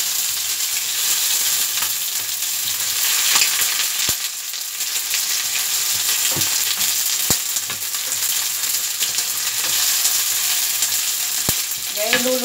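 Onions, tomato, garlic and dried pork belly sauté in a hot pan, a loud continuous close sizzle with a few sharp ticks and scrapes of stirring throughout.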